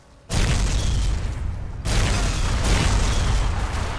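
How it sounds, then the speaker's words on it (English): The Tesla cannon fires in the video game Fallout: New Vegas, a sudden heavy boom followed by a sustained loud roar with a second surge partway through. "We're getting the Tesla cannon out right now, and we're shooting first."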